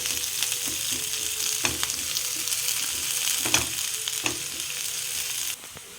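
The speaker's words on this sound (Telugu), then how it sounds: "ఆనియన్స్ ఫ్రై చేసుకోండి." Onions frying in hot oil for a peri peri chicken fry, a steady close sizzle with occasional stirring clicks and scrapes throughout, no voices.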